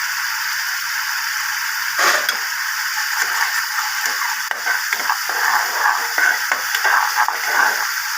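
Taro and prawns fry in hot oil with Kashmiri chili, giving a steady close sizzle broken by occasional stirring scrapes and clinks, with no talking.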